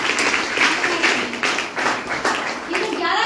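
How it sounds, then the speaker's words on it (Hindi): An audience at a business seminar claps together, a dense burst of applause that stays loud for a few seconds before trailing off. "ताली बजा दो इस बार"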